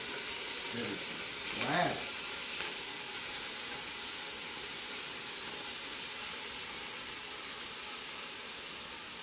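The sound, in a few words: ground meat browning in olive oil in a pan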